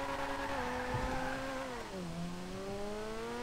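A car in GTA V spins out, its engine droning as the pitch sags and then climbs again, with a brief tire scrub partway through, steady and fairly close with no talk over it.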